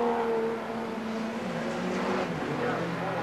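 Modified production race cars racing at an Australian title heat in 1993, engines droning and shifting pitch as cars pass at a distance, under continuous commentary.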